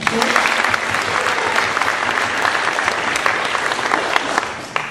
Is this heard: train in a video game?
no